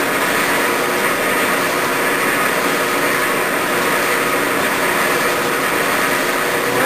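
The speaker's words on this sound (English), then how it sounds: "Engage the half nut lever." A Clausing metal lathe cuts a thread with the half-nut lever engaged, a steady, loud mechanical drone with a broad rushing hiss that runs unbroken throughout.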